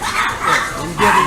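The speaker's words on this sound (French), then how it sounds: "Une guerre de chiens." Two or more dogs bark back and forth during a night event, the barks close and fairly loud and running in uneven bursts with faint voices murmuring beneath.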